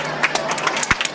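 A seated audience applauds a lawyer, Maître Ousmane Diagne, at a cultural gathering, giving a brief burst of dense clapping at close range.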